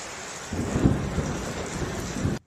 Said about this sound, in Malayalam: നല്ല ഇടിയോടുകൂടിയ മഴയാണ്.